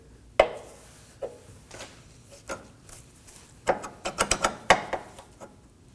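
A rear lower forward control arm for a 2018-2024 Chevrolet Equinox is slid into place, giving sharp metallic knocks and clunks, sparse at first, then a faster cluster of clacks and scraping taps near the end.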